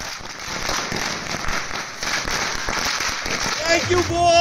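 Fireworks and firecrackers set off by Indian cricket fans celebrating a T20 World Cup win crackle and pop in dense overlapping bursts through the night, with a sharp whistling burst near the end.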